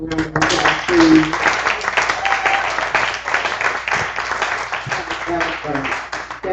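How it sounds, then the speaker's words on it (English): Live audience at a spoken word poetry event giving a performer a round of applause, sustained dense clapping with cheers close by, lasting several seconds with voices heard through it. "Give Rob another round of applause,"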